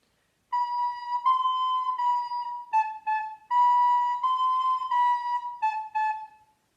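Recorder playing a short improvised melody, clear solo notes at a steady pitch with a few brief breaks between phrases, close and alone with nothing else in the background.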